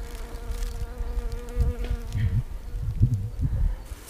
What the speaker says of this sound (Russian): Пчелы уже у нас все летают